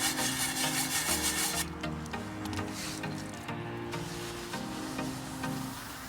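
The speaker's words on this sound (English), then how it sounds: "And let's get scrubbing." Scrubbing dishes with washing-up liquid after cooking sausages at a car camp: steady, close rubbing and scraping strokes with a wet, rhythmic texture, continuous and fairly loud with no talking.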